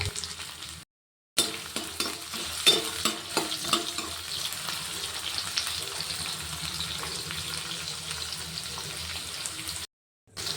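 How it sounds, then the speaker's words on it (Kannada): Finely chopped onion sizzles in hot oil in a tempering with bay leaf, a steady crackling fry with spoon stirs and light metallic clinks, close, with no one talking. "ಒಂದು ಈರುಳ್ಳಿನ ಸಣ್ಣದಾಗಿ ಹೆಚ್ಕೊಂಡು ಇದಕ್ಕೆ ಒಗ್ಗರಣೆಗೆ ಹಾಕ್ಕೊಳ್ತಿದ್ದೀನಿ."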